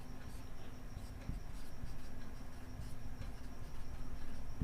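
Chalk or a marker scratches steadily while numbers are written on a classroom board, giving a soft, continuous rasp with faint taps, low in level under background room hum.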